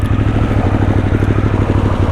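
Harley-Davidson Sportster S engine with its exhaust baffles removed, running with a loud, deep, steady throbbing exhaust pulse up close and no other sounds.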